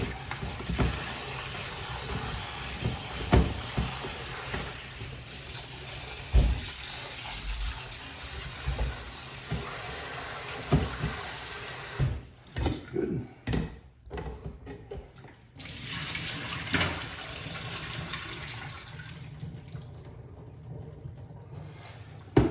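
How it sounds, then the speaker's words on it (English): Fresh cold tap water pouring and splashing as sliced potatoes are washed in a pan, steady running water broken by sloshing bursts and a few pauses, close and moderately loud. "Add some fresh cold water."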